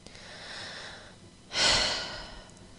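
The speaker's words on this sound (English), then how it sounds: "Breath 1, inhale deeply." Deep breathing during a guided breathing exercise, a long soft inhale followed by a louder, rushing exhale close to the microphone.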